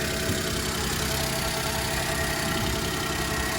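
A small car engine idles steadily and close by with worn drive belts, giving a continuous, even mechanical hum and rumble with no talk over it.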